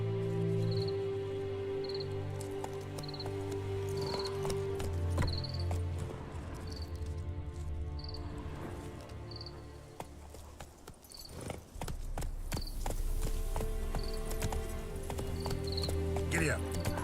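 Horse hooves trotting in The Witcher 3, a steady clip-clop rhythm beneath a continuous in-game ambience of crickets and insects, with an occasional horse whinny and a voice speaking over it.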